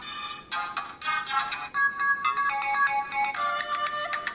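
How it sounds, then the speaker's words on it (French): Ringtone playing on a Homtom HT7 smartphone as it is chosen in the settings, a bright electronic melody of repeated chiming notes in short bursts, loud and close with no voices. "on peut choisir la sonnerie du téléphone"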